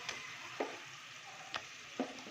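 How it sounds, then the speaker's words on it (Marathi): Crabs cook in masala tempering over a low flame, with a quiet sizzle and four sparse, light knocks as the pieces are placed or stirred. "आता आपण एक एक आपली चिंबोरी त्याच्यात सोडत आहोत फोडणीमध्ये आपल्या"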